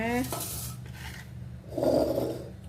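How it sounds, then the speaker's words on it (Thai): A spoon scrapes and clinks against a bowl and plate as Thai papaya salad (som tam) with fermented fish sauce is scooped onto a serving plate, with short rubbing and tapping sounds close by. "จะมาตักใส่จานเสิร์ฟกันเลยนะ"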